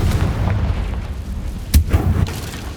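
A blasting-spell explosion in a video game: a low, heavy boom rolling under a rumbling backdrop, with a sharp crack midway followed by a couple of deeper thuds close to the listener.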